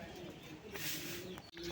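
A high flyer pigeon coos in a soft, low rumble, faint and close, with a brief break near the end and a voice murmuring in the background.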